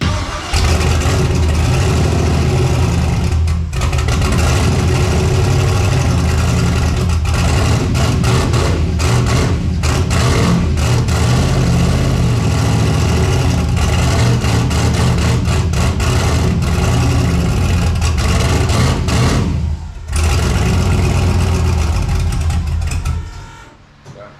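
A car engine of over 1000 horsepower roars loudly and continuously on its first start, its pitch rising and falling slightly with revs, then cutting off at the end.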